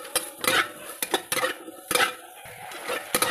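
Potatoes frying in a pan being stirred, with repeated metallic scrapes and clinks of a spoon against the pan in an irregular rhythm, close and clear.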